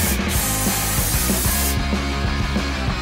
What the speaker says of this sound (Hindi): सुनहरा स्प्रे।